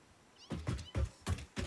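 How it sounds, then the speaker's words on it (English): A cat meows close by, five short calls in a fairly even rhythm, clear against a quiet background with no talking. "You hear it meowing?"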